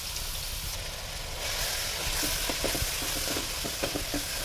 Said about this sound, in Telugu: ఆయిల్ వేడైన తర్వాత సన్నగా తరిగిన ఉల్లిపాయలు కూడా వేసుకొని